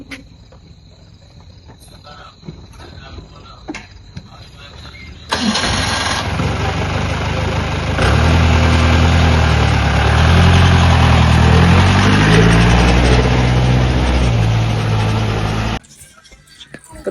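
A diesel car being readied for a wedding starts up loudly after a quiet stretch of crickets chirping, then idles steadily and evenly at close range for about ten seconds before cutting off abruptly.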